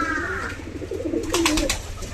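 A hen pigeon gives low, throaty coos up close, a couple of rolling phrases over a light noisy background.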